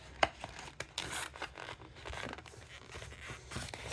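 A paper planner card slides back into a planner's pocket with short, close scraping and rubbing sounds, quiet and intermittent, ending in a few soft brushes.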